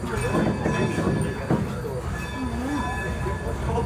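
A train rolls along the rails at Steamtown, a loud continuous rumble with rhythmic wheel clatter and faint squeals, while a voice speaks over the running noise.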